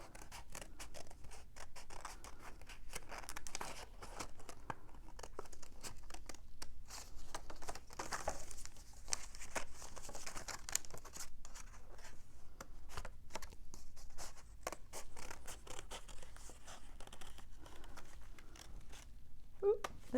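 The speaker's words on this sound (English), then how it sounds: "using my hopefully nice and sharp scissors" Sharp scissors snip steadily through black paper while cutting out a silhouette, a long run of close, quick crisp cuts with faint rustling and occasional soft talk underneath.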